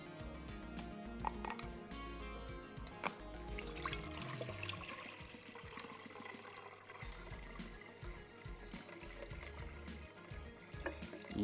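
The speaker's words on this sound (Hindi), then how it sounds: "ये कोई भी एक आपने यहाँ पे सॉस पैन लेना है, उसके अंदर डाल देंगे पानी।" Water poured into a saucepan for a double boiler, with a continuous splashing, trickling stream and intermittent clinks of metal, fairly faint and close, with no voices.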